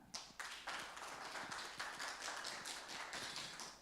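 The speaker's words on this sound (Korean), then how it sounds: "대표님께 큰 박수 부탁드립니다" A fintech pitching event audience claps to welcome a startup presenter, a quiet, steady patter of many hands rising after a few sharp early claps and holding evenly throughout, with no talk over it.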